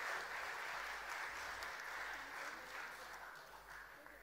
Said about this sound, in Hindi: तालियों से अभिनंदन करिए